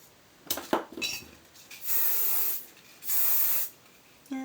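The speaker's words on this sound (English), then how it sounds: "And hairspray." Bursts of hairspray from an aerosol can hiss onto hair during an 18th-century Marie Antoinette styling: two long sprays following a few short clinks and handling sounds, close and clear.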